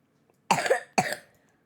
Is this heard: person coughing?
yes